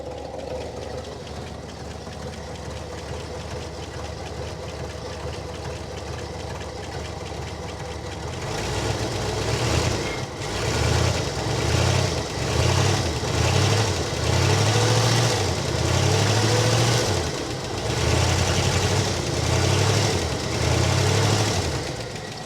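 A 1970 Oldsmobile engine idles while warming up, a steady low rumble that grows louder and rougher partway through, with a throbbing, uneven lope continuing to the end.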